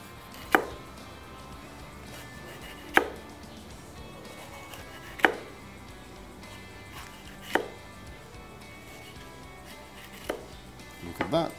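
A knife cuts a vegetable on a board in five or six separate sharp chops, spaced a couple of seconds apart over a quiet background, close and clear, with no talk.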